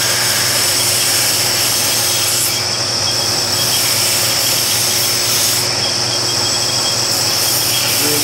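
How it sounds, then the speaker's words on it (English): A belt grinder works a knife blade in a knife-making shop, giving a loud, continuous whine and rough grinding hiss that hold steady throughout, with slight dips in pressure partway through. "Back to the grinders."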